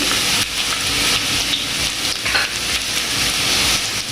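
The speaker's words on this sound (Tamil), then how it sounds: "இது நல்லா பொன்னிறமாக பொரியணும்." Evenly chopped white garlic fries in hot oil toward golden for a fish cutlet, giving a dense, continuous sizzle and crackle that stays loud and close from start to finish.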